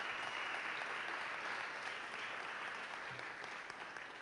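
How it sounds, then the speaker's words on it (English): Steady applause from an audience of mentors and coaches at a startup weekend event in Little Rock, filling the room evenly from start to finish without a break. "Just give them a round of applause."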